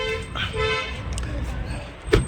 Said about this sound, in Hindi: देन उसके बाद डोर की के साथ हम इसको एक बार लॉक अनलॉक करके भी देखेंगे।